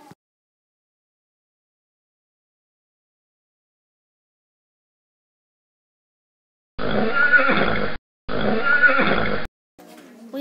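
After a long silence, horses give two loud whinnies in quick succession, each lasting about a second, followed by a brief quieter sound.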